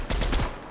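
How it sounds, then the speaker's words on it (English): Gunfire in a Fortnite trios match: a short, dense burst of rapid shots lasting about half a second, fairly close and loud, with no talk over it. "somebody's firing"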